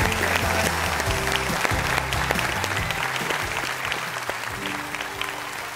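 Audience at a Spanish music show applauding steadily, with a strong band or music playing beneath the clapping the whole time.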